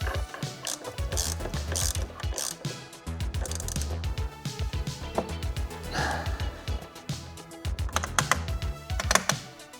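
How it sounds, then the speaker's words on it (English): Ratcheting while threading a steering wheel retaining bolt on a Corvette C8 during a paddle shifter install, rapid repeated mechanical clicks in bursts for several seconds, close and fairly loud. "Now for our retaining bolt, I put a little bit of Loctite on there. Just thread that in."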